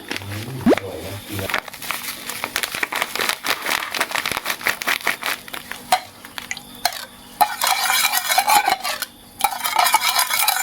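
Shrimp and glass noodles stirred in a pan make dense, busy scraping and clattering with a sizzle underneath, close and continuous, growing rougher toward the end.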